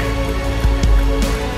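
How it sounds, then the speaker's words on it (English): Rain falling outside on a rainy day around 44 degrees, a steady dense patter of drops on surfaces, close and fairly loud, with no voices. "It's 44 degrees and it's nice and rainy outside."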